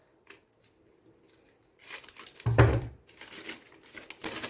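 Scissors snipping through a wheat rava packet, a short burst of close crisp plastic cutting and crinkling, with quieter handling rustles before and after.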